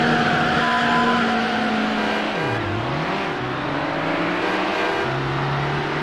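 Race car engines roar and rev together at the start of a race in the Need For Speed Hot Pursuit 2 video game, a continuous loud drone with shifting engine pitch and no talking.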